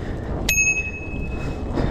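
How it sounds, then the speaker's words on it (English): Bicycle bell on a State fat bike rings once, a single sharp clear ding that lingers briefly over quiet outdoor background. "Comes with a bell."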